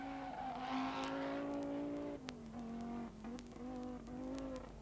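An Audi Sport quattro rally car climbs the Shelsley Walsh hillclimb with a faint engine note that rises through the gears. Clear pitch steps mark each gear change, and brief clicks and pops sit over a distant, steady background.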